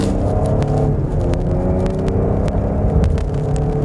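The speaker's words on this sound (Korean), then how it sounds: "제가 엔진음을 한번 들려주기 위해서 한번 밟아보도록 하겠습니다." Lincoln Aviator 3.0 V6 AWD SUV with a 10-speed automatic revving hard under acceleration, a loud, steady engine roar that holds throughout with no talking.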